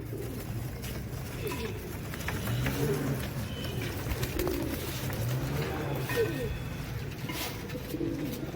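Royal Teddy pigeons coo repeatedly in a loft, soft overlapping calls close by over a steady low background hum, with no talk.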